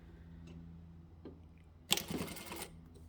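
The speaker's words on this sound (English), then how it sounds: "we'll just start here and we'll do a back stitch" A domestic sewing machine back-stitches fabric for a small trinket basket: after a quiet start, a short burst of rapid mechanical stitching rattles for under a second, close and moderately loud.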